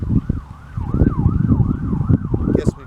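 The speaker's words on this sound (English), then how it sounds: "Here's an ambulance that's going down the road behind me" An ambulance siren wails as it passes along a road, a steady rising-and-falling tone over rumbling traffic and low voices nearby.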